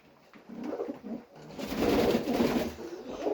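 Pigeons cooing as they come into a clean loft, a soft low warbling murmur from several birds close by that grows fuller and louder partway through.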